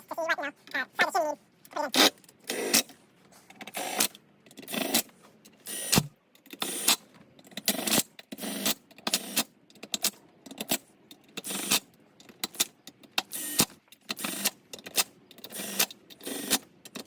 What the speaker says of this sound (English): But let me get all these bolts in there.